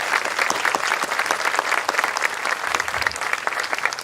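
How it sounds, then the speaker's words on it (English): Audience applause at middle school closing exercises, a steady crowd of hands clapping throughout, fairly close and even in level, with no talk over it. "Let's give one more round of applause for all our performers and speakers."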